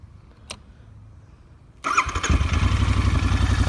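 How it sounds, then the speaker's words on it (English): A Royal Enfield Interceptor 650 naked motorcycle with aftermarket cans cranks and fires at about the two-second mark, then settles into a loud, steady, throbbing idle after a short quiet lead-in. "What I'll do is I'll start it up"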